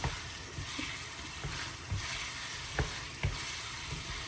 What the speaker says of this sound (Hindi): और अब हम इसके अंदर ऐड करेंगे आलू। ये देखिए इस तरीके से। और इनको भूनेंगे अच्छे तरीके से।